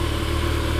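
A 2015 Kawasaki ZX14R motorcycle engine runs steadily and loudly up close, a continuous low rumble with no breaks through the short moment.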